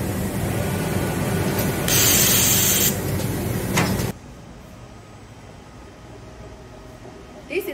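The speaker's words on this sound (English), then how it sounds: "This is for automatic feeding the paper." A ZRL800 collapsible box making machine feeds paper automatically with a loud, dense mechanical whir and a hissing burst partway through, then abruptly drops to a quieter hum with a faint clunk near the end.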